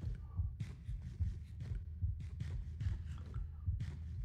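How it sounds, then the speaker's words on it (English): A Minecraft heartbeat sound effect throbs in a low, steady rhythmic pulse, repeating about every half second to second under faint game ambience, with no talking. "You have like the heartbeat sound."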